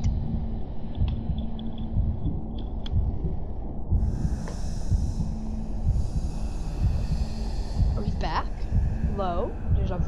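Steady low thudding heartbeat pulses throughout a stretch of Bendy and the Ink Machine horror gameplay, a looping game sound under a continuous hum, with a brief hiss and short chirping effects near the end.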